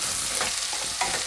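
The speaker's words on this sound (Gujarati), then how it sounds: "આ મસાલો જે રાખ્યો હતો એ નાખી દે હું, એને આપણે તેલમાં આ રીતે મિક્સ કરી લઈશું" Masala spices stirred into hot oil in a pan while cooking a stuffed raw tomato curry, a steady close sizzle broken by soft scraping strokes of the spoon, no voices.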